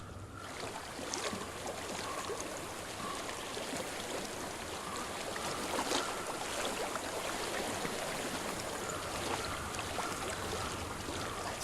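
Flowing stream water in the Hellblade: Senua's Sacrifice video game, a steady, continuous rushing and trickling that stays close and even throughout with no voices.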